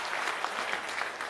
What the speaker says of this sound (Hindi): एक बार हमारे मातृशक्ति के लिए भी जोरदार तालियों से स्वागत किया जाए